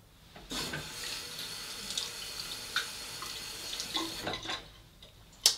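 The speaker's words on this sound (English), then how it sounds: "let me rinse this off" Water tap running while a vintage Sheffield straight razor is rinsed at a sink, a steady close stream of running water with small splashes and light clinks against the basin.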